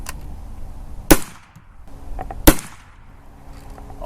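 Two sharp, loud Carcano rifle shots crack about a second and a half apart outdoors, each followed by a short fading echo, with quiet background between them.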